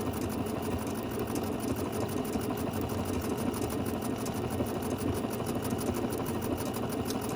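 A sewing machine with a 9mm wide plate stitches a dense, thick decorative pattern on fabric treated with Terial Magic. Its motor runs up close in a fast, continuous, even whir with no talking over it.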